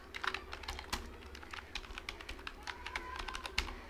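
Someone types text on a computer keyboard while building a Flutter Flow layout, producing a quick, uneven run of close, crisp key clicks with no one speaking.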